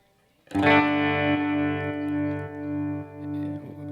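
A single electric guitar chord, played through compression, delay and tremolo effects, rings out suddenly and sustains, its tone pulsing in a slow, wavering tremolo with a faint echoing trail.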